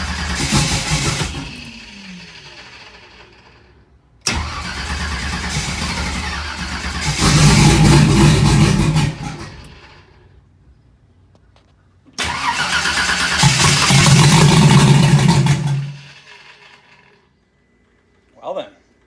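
A car engine that had been firing and dying, now cranking after a fuel regulator rebuild, makes three long loud bursts of cranking and brief catching, separated by quiet gaps, with voices in the background and a short thump at the end.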